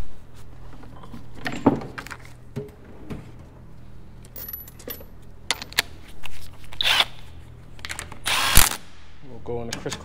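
A hand ratchet tightens fine-thread bolts on a Honda K series transmission during assembly, giving short runs of metallic clicking mixed with clinks of tools and parts, close and fairly loud.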